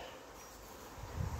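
A honeybee swarm being caught and settled onto a hive gives off a faint, steady buzzing hum, growing slightly louder near the end, with no one talking.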